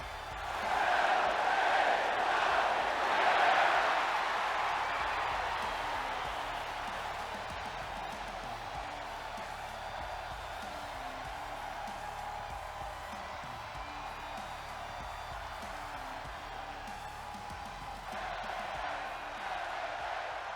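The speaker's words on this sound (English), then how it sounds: "Crowd is firmly behind LA Knight tonight" A WWE 2K24 wrestling video game arena crowd cheering for LA Knight on SmackDown: a dense, steady roar that swells loudest early on, then settles into a sustained background hum.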